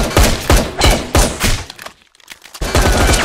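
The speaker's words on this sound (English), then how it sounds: "The police are here, but they're shooting the wrong people." Loud video game gunfire from police in a chaotic McDonald's scene, rapid bursts of shots in quick clusters, a brief pause, then more shooting resuming close and sharp.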